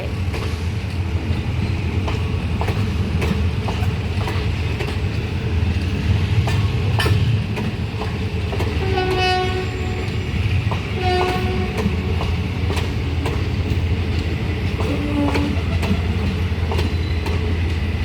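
Diesel railcar 4010 rumbles in on an eastern suburban rail line, its engine droning steadily and loudly with wheel clatter, while the horn sounds several clear blasts partway through.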